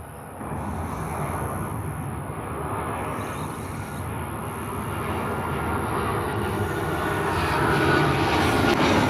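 An American Airlines jet arriving at Tampa airport, its engines a steady broad roar that builds slightly louder over several seconds, heard from a spotting position with no talk.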